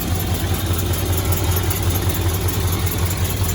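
The engine of a barn-find Dodge D100 truck, just after a carburetor adjustment, runs at a steady, even idle, close and continuous with no talk.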